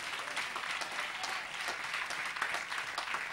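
A church congregation applauds during a French-language service, steady dense clapping from a crowd heard fairly close for a few seconds, with no clear talk over it.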